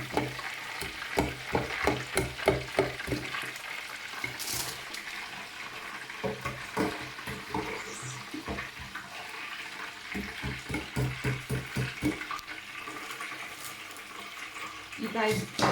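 Oil bubbles and sizzles as oyster mushrooms deep-fry, with rhythmic stirring and scraping noises over the steady crackle.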